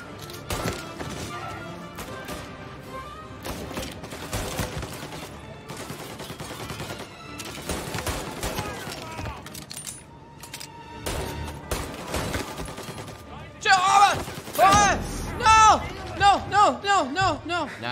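Video game gunfire in Mafia: Definitive Edition, shots hitting wooden cover: rapid bursts of shots and impacts, with game sounds and voices over them and a string of louder crackling hits near the end.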